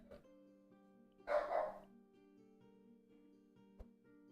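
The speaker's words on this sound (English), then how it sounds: "Sorry for the barking." A dog barks in a short burst from a nearby room, briefly rising over a steady low hum of game music, then falls quiet.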